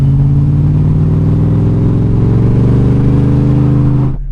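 Supercharged Venom 800 two-door Ford F-150 race truck idling and warming up, a loud, steady close engine drone with slight rising revs, running alone for about four seconds before cutting off abruptly.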